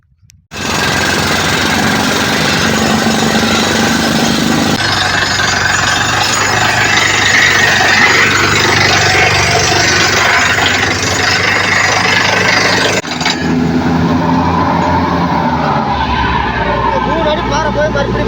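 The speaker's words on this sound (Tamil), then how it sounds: "லாரி போகுது கேசிங் கீழே ஓட்டுது" Borewell drilling rig engine driving casing down, with a lorry running nearby; a loud, continuous diesel roar and grinding drone that shifts in tone partway through, with people talking faintly under it.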